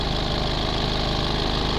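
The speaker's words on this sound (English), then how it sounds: "especially because we're doing it with the engine running." A car engine idles steadily and close by, a continuous low rumble with a fine regular pulse and no voices over it.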